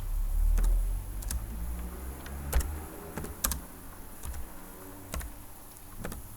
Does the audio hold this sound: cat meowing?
no